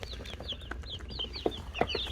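Newly hatched baby chicks on their first day peep in a steady stream of high, rising chirps, several birds overlapping close by, with a couple of louder knocks or shuffles partway through.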